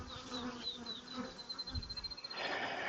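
Bees buzz close around a hive in a relocated bee tree, a droning hum with individual insects whining past, swelling louder toward the end.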